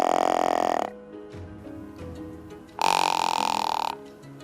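Deer grunt call blown softly, two drawn-out throaty grunts separated by a short pause, close up and alone.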